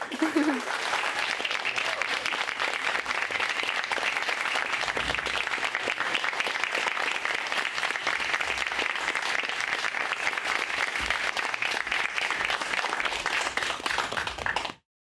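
Sustained, loud audience applause fills the room after a senior student presentation at a Stanford university event, a dense steady clapping that continues without pause for about fifteen seconds before cutting off.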